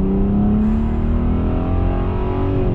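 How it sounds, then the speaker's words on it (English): A Volkswagen Passat VR6 4-Motion accelerates hard, its six-cylinder exhaust note a loud, rich drone that climbs steadily in pitch as the revs rise, heard from inside the car with no talking. "that exhaust note really is fantastic"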